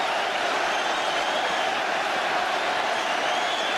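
A packed football stadium crowd at an Arsenal versus Tottenham match roars and applauds after a goal, a dense, steady wash of cheering and clapping that holds at an even level throughout.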